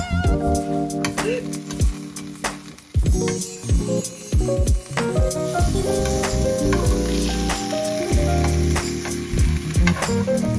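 A quesadilla from a meal kit sizzles as it fries front and back in a pan, with a steady close crackle and sharp clicks and scrapes from stirring or turning, all under background music.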